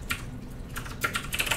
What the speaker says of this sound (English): I can just hit the F5 key for that